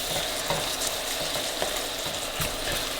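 Mushrooms stirred in a hot pan with balsamic vinegar and Worcestershire sauce, a loud, dense, continuous sizzle with soft stirring scrapes close by.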